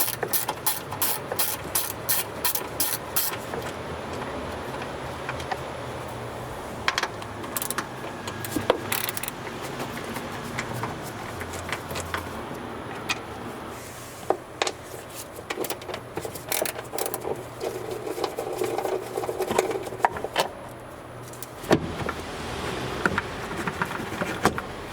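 Socket wrench clicks and metallic rattling while removing 8mm bolts holding a plastic rear trim panel in a Volvo XC40, a run of quick ratcheting ticks at the start, then scattered clacks and handling noise close up, with no talking.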